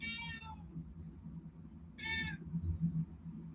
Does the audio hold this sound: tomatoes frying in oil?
no